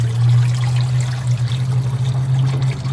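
Thinned, flushed engine oil drains from a 2010 Ford Escape 3.0L in a steady, unbroken trickling pour that runs loud and close the whole time.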